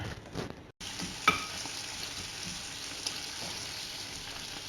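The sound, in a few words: mixing hot salami into risotto in a pan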